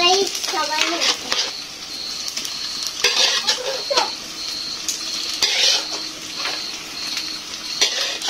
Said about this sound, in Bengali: সামান্য ভেজে তারপরে হচ্ছে কাঁকড়াটা দিয়ে দাও